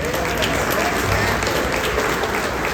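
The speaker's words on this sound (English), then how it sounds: "let's do another round of applause for all the volunteers and museum staff that are pulling this off" Audience applause for volunteers and museum staff at a Corvette plant event, a steady dense wash of clapping filling the whole stretch with a voice faintly present underneath.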